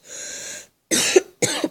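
Three separate bursts of coughing, close and fairly loud: a long rasping one, then two shorter throaty coughs after a brief pause.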